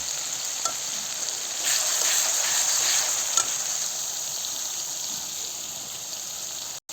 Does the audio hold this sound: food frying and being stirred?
yes